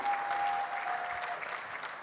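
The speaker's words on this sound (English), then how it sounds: "Can we please have a big round of applause?" Steady applause from an event audience at a jewellery industry gathering, sustained and even throughout without pause, a dense wash of many hands clapping at once.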